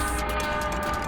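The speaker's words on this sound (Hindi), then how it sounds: "वो रहा रेलवे स्टेशन" A train sounds at a railway station, a steady loud rumble with a sustained horn-like tone running through it, brief and without any voices.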